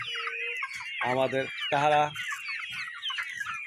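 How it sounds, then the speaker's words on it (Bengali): Bahama chickens cluck nearby in a string of short, throaty calls. A few louder, drawn-out squawks stand out, and softer chatter from the flock carries on behind them. "বাহামা মুরগি বাসার অনেকখানি সৌন্দর্য দখল করে নিয়েছে"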